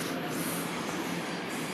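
Intercity express train passing on the line near a railway bridge in Łowicz, Poland, a steady, loud broadband rumble and rush of wheels on rails filling the whole stretch with no pauses.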